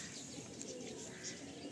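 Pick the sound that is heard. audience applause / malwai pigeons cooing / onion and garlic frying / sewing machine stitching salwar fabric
malwai pigeons cooing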